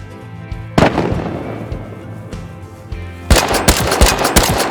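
Gunfire in the Rust video game: a loud single shot, a few scattered cracks, then a rapid automatic burst of close, sharp shots with no voice heard.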